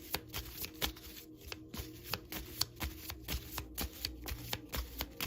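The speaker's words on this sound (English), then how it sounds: "we're going to shuffle again" Tarot cards are shuffled by hand in a steady stream of crisp riffles and soft slaps, close up and fairly quiet, with no voices over them.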